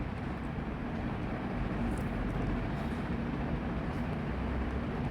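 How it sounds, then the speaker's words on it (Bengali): An automated driverless Skytrain pulls in at Changi Airport, Singapore, with a steady, even rumble and rolling hum that holds throughout, with no talk. "আমাদের স্কাই ট্রেন চলে এসেছে।"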